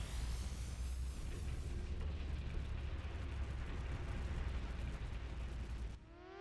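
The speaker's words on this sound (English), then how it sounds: "Accidental explosion on the base." An accidental explosion tears through a military base in the video game Front Mission 3, a dense, roaring blast that rumbles steadily for several seconds before abruptly dropping to a lighter, rising mechanical tail.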